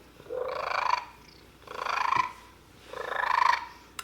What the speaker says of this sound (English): He's just purring.